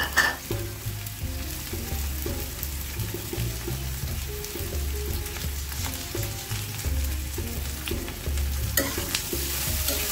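Onion, potato and bitter gourd fry together in a pan, a steady close sizzle running throughout, with stirring scrapes and clinks breaking through at intervals, and no voices.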